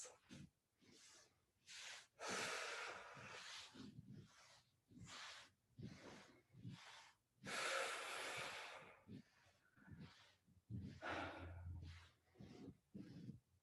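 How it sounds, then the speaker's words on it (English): During a balance and core workout, slow, deep, audible breaths repeat in long airy inhales and exhales, close to the microphone, with short quiet gaps between them and no speech. "So we'll do a couple more breaths."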